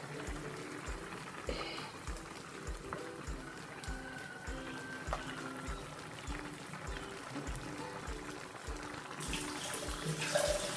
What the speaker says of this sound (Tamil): കൊഞ്ചം വെള്ളം വിട്ടിരിക്കാം